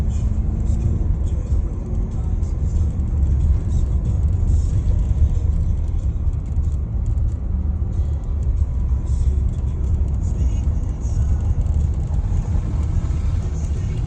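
Inside a car driving along a wintry road after snow and slush, a steady low rumble of engine and tyres continues throughout, close and even, with only faint rattles on top.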